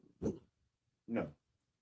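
A dog at home gives two short separate barks or woofs, fairly close and moderately loud, with quiet room sound between them.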